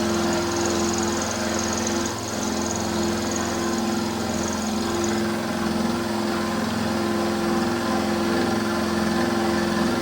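A Warco WM16B milling machine runs a roughing pass cutting a DRO scale, giving a steady, continuous motor hum with a constant tonal whine and faint cutting texture throughout, close and loud without talk.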